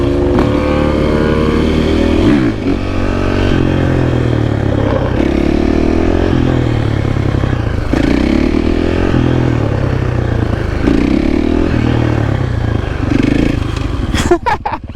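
A supermoto motorcycle cruising, its engine droning steadily and loudly close by, with pitch rising and falling as the rider works through the gears, plus a short clatter at the very end.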